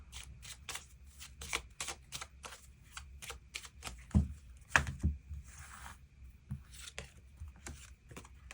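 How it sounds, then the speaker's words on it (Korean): Tarot cards are shuffled and drawn in quick crisp bursts of riffling and snapping, close and distinct, with brief pauses between the flurries and a soft sliding swish midway. "그럼 7번 분들 추가 카드로 일별로 월요일부터 일요일까지 어떤 하루를 보내게 될지 추가 카드 뽑아보도록 하겠습니다."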